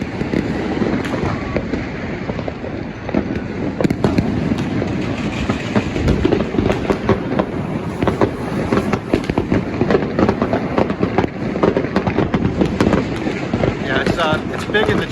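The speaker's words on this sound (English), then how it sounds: "getting the big fireworks by the beach all the way in the distance, just the local stuff" New Year fireworks exploding by a beach in the distance, a dense, continuous crackle of many small bangs and pops, with a voice talking over them.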